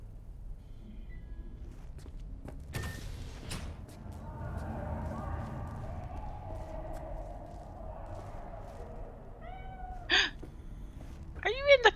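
In the video game Cyberpunk, a cat gives a couple of short meows toward the end after a quiet stretch of ambience, footsteps and people talking.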